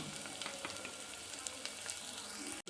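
Green chilli for ulava charu fries in a pan with a dense, even sizzle and light crackle, close and continuous, stopping sharply at the very end.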